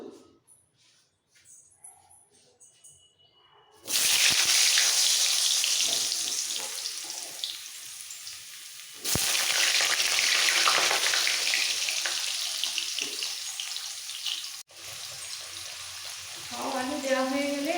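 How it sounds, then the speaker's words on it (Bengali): Potatoes going into hot mustard oil: after near silence, a loud hissing sizzle bursts in suddenly and keeps crackling steadily, with a brief break partway through and faint voice-like sounds near the end. "তেল ভালোভাবে গরম হয়ে গেছে দিয়ে দেবো আলু"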